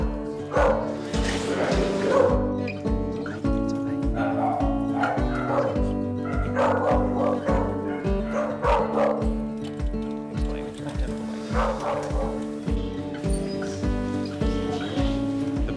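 Dogs bark loudly and repeatedly at an animal shelter, yips and whimpers mixed into a steady chorus of overlapping barks, with people talking underneath.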